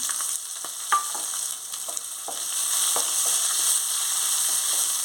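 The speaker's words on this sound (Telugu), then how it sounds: "ఆనియన్స్ కూడా వేగాయి" Onions fry in a pan with ginger and green chili for jowar rava upma, a bright continuous sizzle with intermittent spatula scrapes and clicks, close and moderately loud.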